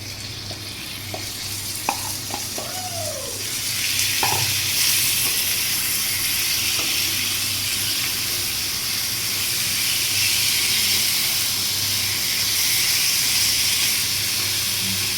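Marinated chicken frying in a kadai, a continuous strong sizzle and steamy hiss throughout, with a few clinks early on and the frying swelling louder midway, no talking.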